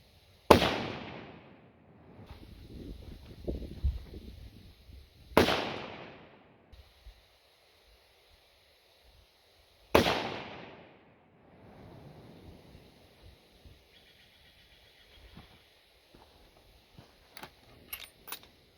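.308 rifle fitted with a muzzle brake firing three loud, sharp shots about five seconds apart outdoors, each with a ringing decay, and small clicks and handling noises between them.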